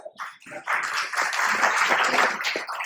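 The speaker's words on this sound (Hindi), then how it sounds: "सभी लोग जो है उनका तालियों से स्वागत करें" Audience at a public meeting breaks into applause to welcome a guest to the stage, moderate clapping swelling after a brief stir and holding steady.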